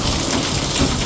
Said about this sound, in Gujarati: એવો સારો વરસાદ પડે છે.